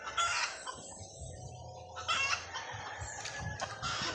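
Backyard fighting roosters, Boston Roundhead crosses, crowing and clucking at a middling distance, with a drawn-out crow at the start and shorter calls later over a low rustling farmyard background.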